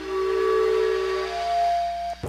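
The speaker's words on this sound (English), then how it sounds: "sounds like a freaking train whistle." A steam-whistle-like tone sounds in the game Myst: one long, steady, piercing hiss-edged whistle holds loud for about two seconds and then cuts off abruptly.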